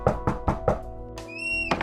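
Four sharp knocks on a house door in quick, even succession, close and fairly loud, followed by a faint high ringing tone and a short rustle.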